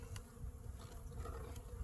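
Live bees buzzing in a steady, faint drone inside a hive box in winter, close by, with no voices.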